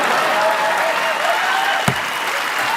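Steady applause from a live audience at a married couple's talk, a dense even patter of many hands clapping throughout, fairly close and with no talking over it.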